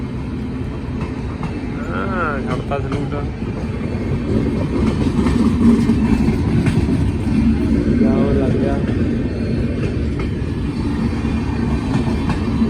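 A train rolls past beside a busy market, its steady rumble and rattle swelling slightly in the middle and continuing under nearby people talking.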